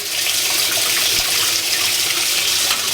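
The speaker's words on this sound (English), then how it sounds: "There goes the warm water." Warm water gushes steadily into a Whirlpool washing machine during a load of sheets, a loud, even rushing and splashing that continues without pause and with no voices.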